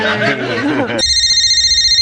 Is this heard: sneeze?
no